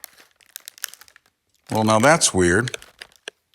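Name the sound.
opening Mexican candy wrapper, crinkling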